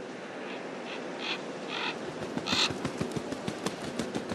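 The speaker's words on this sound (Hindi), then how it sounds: "सबसे पहले पहुंचते हैं कौवे, जो हमेशा किसी की मौत का इंतजार करते हैं।" Crows cawing near a dead deer in the northern wild, a run of short harsh calls repeating at a steady spacing, fairly faint and distant, followed by scattered clicks and rustles.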